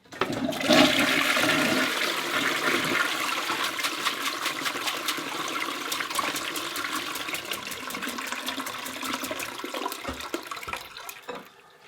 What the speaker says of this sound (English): So let's flush it again and see how we're doing.